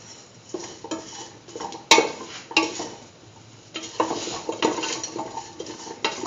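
Spoon stirring a curried beetroot chickpea coconut dip after salt goes in, irregular scrapes and clinks of utensil against the bowl or pan, moderately loud, with no speech.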